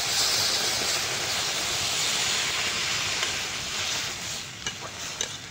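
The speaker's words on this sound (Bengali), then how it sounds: "কষানো হয়ে গেছে, জল দিয়ে দেবো।" Water goes into a hot pan of sautéed curry with shrimp and elephant foot yam stalks, setting off a loud, steady hiss and sizzle that gradually settles, with a few faint clinks near the end.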